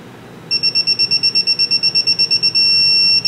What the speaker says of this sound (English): that's your warning beep.